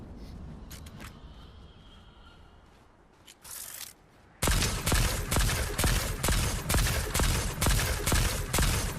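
Shotgun fire in the Fortnite video game, a rapid run of about nine loud, evenly spaced blasts in the second half, preceded by quieter game sounds and movement.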